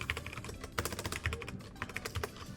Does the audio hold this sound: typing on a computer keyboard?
yes